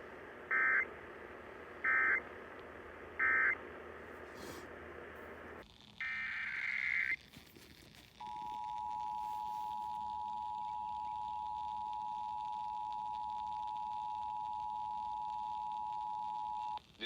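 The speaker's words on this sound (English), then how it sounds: "The following tones will conclude this test from the Washington State Emergency Operations Center." Emergency Alert System test tones from the Washington State Emergency Operations Center: three short data bursts, a brief pause, a short burst, then a long steady attention tone held for about eight seconds.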